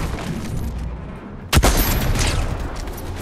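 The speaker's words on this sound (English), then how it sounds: "Oh, shots." A single loud gunshot cracks out in a Fortnite Zero Build ranked solo match, sharp and close against a busy background of distant game noise.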